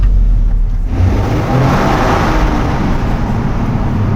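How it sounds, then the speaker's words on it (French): A 2024 Toyota GR Yaris engine drones steadily inside an echoing tunnel, with a constant turbo whoosh rushing over the low rumble. "tout ce qu'on entend, c'est le souffle du turbo"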